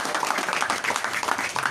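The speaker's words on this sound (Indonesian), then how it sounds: "Al-Ustaz Agus Mahesa, tepuk tangan buat beliau." A gathering at an Islamic religious event gives a short burst of quiet, steady applause, many hands clapping at a moderate distance.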